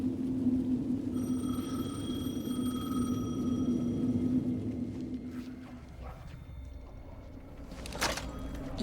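A telephone rings repeatedly in the video game Alan Wake II, a steady electronic tone with even pulses over a low ambient rumble, fading out before a brief sharp noise near the end.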